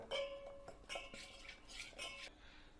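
A spoon stirs a half-liquid batter thinned with water in a metal bowl, giving a run of quick clinks and scrapes against the sides, close and fairly quiet, with no talking.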